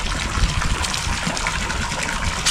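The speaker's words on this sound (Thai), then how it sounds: "เอามาล้างมือกันเด้อพี่น้อง" Water gushes steadily at a temple as it is poured for hand washing, a loud continuous splashing rush with no break and no voices.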